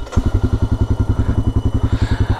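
A motorcycle with a mechanical problem putters loudly and close by, its engine thumping in a rapid, even rhythmic chug with a clattering edge that continues steadily throughout.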